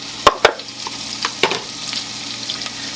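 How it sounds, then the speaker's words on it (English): Celery dropped into melted butter in a pan crackles and sizzles, with a few sharp pops and clatters at the start and a softer, steady hiss afterward. "our butter is melted down, so to that we're going to add half a cup of celery"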